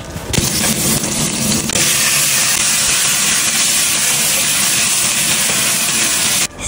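Onion, garlic and ginger sautéing in a pan give a loud, continuous hissing sizzle that holds steady before cutting off abruptly near the end.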